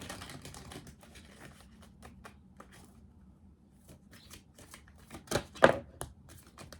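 Tarot cards being shuffled close up, a soft, irregular patter of riffling and tapping, quiet overall with a sharper flurry near the end as cards jump from the deck.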